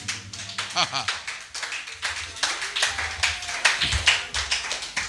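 A church congregation claps to acclaim Jesus during an evangelist's service, sharp rhythmic handclaps repeating through the stretch over a musical backing, with voices mixed in.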